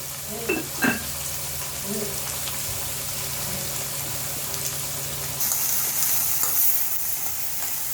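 Salt is added to food sautéing in a pan, which gives a continuous close sizzle with occasional stirring scrapes. A faint voice is heard near the start.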